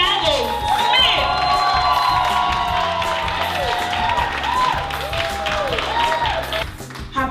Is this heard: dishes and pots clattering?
no